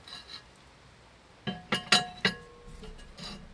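A ceramic heat deflector is set into a Kamado grill, giving four quick, bright ringing clinks close by over a quiet background, followed by a softer scrape.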